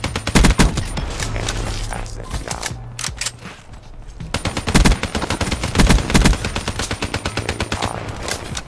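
Rapid automatic gunfire in a video game shooter, dense loud bursts of shots with a short lull in the middle before firing resumes, while a player's voice talks over it.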